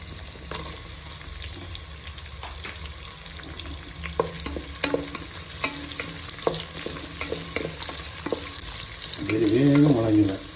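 Onion hits hot oil in a pan for a spicy festival boti dish with idli, a steady close sizzle with stirring clicks and scrapes, swelling louder near the end.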